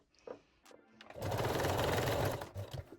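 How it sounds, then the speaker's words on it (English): A sewing machine runs a straight stitch forward and backward on lace bralette straps: a brief pause and light handling noises, then a fast, close mechanical whir for about a second before it slows and stops. "I'm going just forward and backward with a straight stitch"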